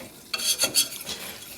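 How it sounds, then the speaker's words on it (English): A flour roux is stirred in a pan with a few quick scraping strokes over a soft sizzle, close and brief. "Do stir constantly, as you don't want lumps."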